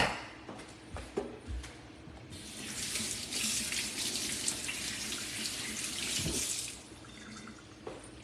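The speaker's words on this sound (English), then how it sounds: "I gotta rinse that piece off." Kitchen tap water running into a sink while a piece of chicken is rinsed, a steady close rush after a few soft drips and knocks, then cutting off near the end, no talking.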